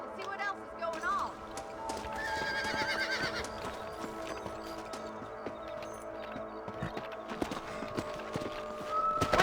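Horse hooves clip-clop steadily on a trail in the Western video game Red Dead Redemption, with an occasional whinny and background music, the hoofbeats close and fairly loud.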